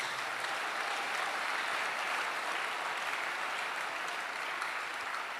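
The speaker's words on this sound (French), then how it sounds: "Acclamons le Seigneur Jésus." A church congregation applauds in a continuous, dense wash of clapping that stays at an even, fairly loud level throughout.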